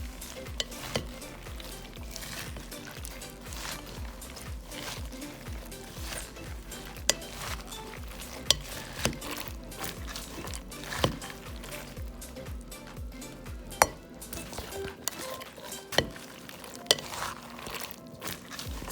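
Salad ingredients tossed and mixed in a bowl, giving steady soft rustling and stirring with scattered light clinks of a utensil against the bowl, close and continuous with no talk.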